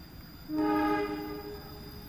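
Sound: Kutojaya Selatan train arriving at Karangpucung station

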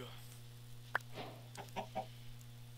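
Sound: chickens clucking in Minecraft-style video game

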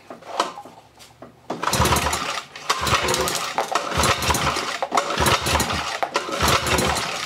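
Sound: 1963 Evinrude outboard motor cranked for compression test

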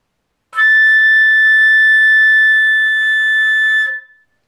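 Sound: flute playing high A in the third octave

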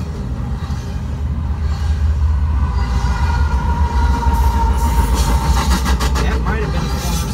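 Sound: Norfolk Southern freight train NS 275 passing

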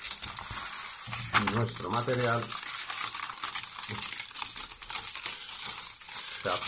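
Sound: peeling apart papers after hard-wax stamping

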